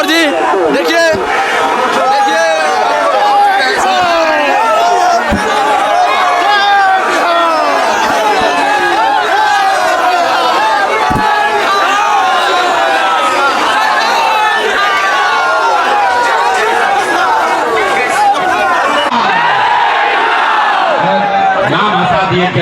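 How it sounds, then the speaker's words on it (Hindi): A dense crowd gathers at Prashant Kishor's Jan Suraaj rally in Chenari, a loud continuous roar of chatter, shouts and cheering close around, with individual voices rising out of the babble. "देखिए भीड़ देखिए, ये पहुंच चुके हैं हमारे प्रशांत किशोर जी"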